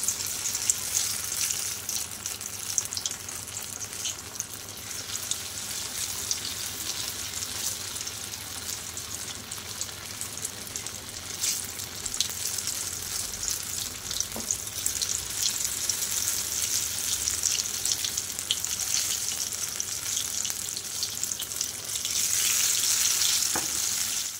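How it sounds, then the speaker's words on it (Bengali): Ash gourd stuffed fritters frying in hot oil, a steady close crackling sizzle that holds for the whole stretch with a few faint stirring knocks and a brief louder burst near the end. "এইবার চলো এগুলোকে ভাজার পালা। ওদিকে তেল তো বসিয়ে দিয়েছি, তেল গরম হয়ে গেছে।"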